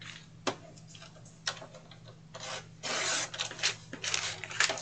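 Paper being trimmed for a Dollar Tree planner craft, heard as soft scraping and rubbing passes with a few sharp ticks, close and fairly quiet over a steady low hum.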